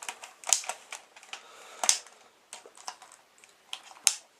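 Plastic parts of a G1 Metroplex Transformers toy snap and click as its arms are popped out and twisted into place, a quick irregular run of sharp, close clicks with a few louder snaps and no talk.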